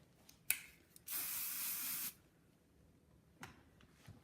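A single steady hiss of aerosol hairspray sprayed onto hair lasting about a second, very close, with a few small clicks and handling noises before and after in a quiet room.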